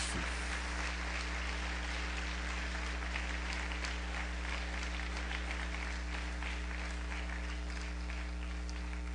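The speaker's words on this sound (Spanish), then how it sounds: "Dele una ofrenda de palmas fuerte a Jesús." Church congregation applauding during a service, a dense, continuous wash of clapping that holds steady for several seconds over a constant low electrical hum.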